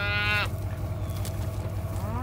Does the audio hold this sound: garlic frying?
no